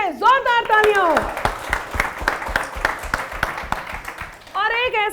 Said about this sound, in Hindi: जोरदार तालियां हो